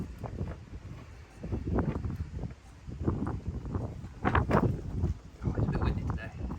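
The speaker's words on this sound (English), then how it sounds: "Oh, it's a bit windy today." Gusty outdoor wind buffeting the microphone with uneven low roaring bursts near a VW T5 camper van during rear light fitting, loud and close with no talk.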